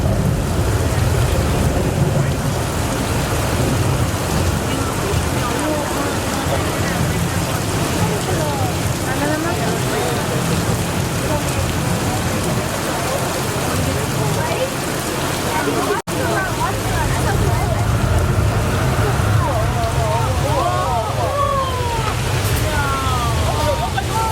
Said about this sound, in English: That rain you see is created by shooting water straight up into the air so that it falls down naturally.